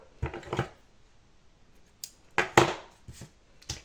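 Scissors snipping through crochet yarn while finishing a small crocheted star, a few short close snips with quiet gaps between them.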